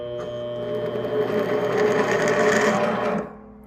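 A Vevor mini lathe cuts threads for motorcycle mirrors, a continuous loud whirring hum with a metallic cutting edge for about three seconds before the motor winds down and stops.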